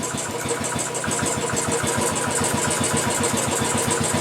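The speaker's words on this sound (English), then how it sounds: "And there comes the RPMs back up." Royal Enfield Classic 500 single-cylinder motorcycle engine with a Powertronic unit, running loud and close in a steady, rapid thumping idle that climbs slightly as the revs come back up.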